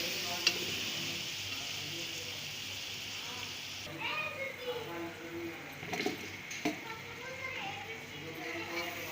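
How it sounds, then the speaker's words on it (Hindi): Potatoes are stirred into a pot of cooking masoor pulao with soft, intermittent scraping and light sizzling. The sounds are quiet and close, with a few sharper knocks in the second half. "आलू डाल के अच्छी तरह मिक्स कर लेंगे।"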